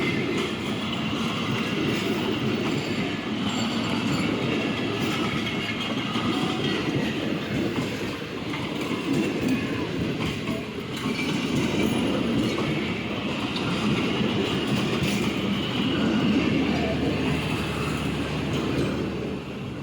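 A train rolls past at Qilla Sattar Shah railway station in Pakistan, its wagons keeping up a steady, loud clickety-clack and rumble for the whole stretch, with no voices over it.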